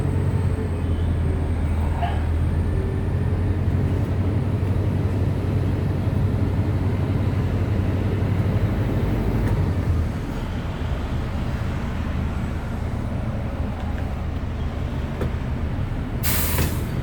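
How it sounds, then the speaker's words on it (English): A bus engine idles steadily to build air brake pressure back up, producing a constant low rumble close by that runs throughout, with a brief hiss near the end. "So now I'm gonna build up my air pressure back up to normal operating range"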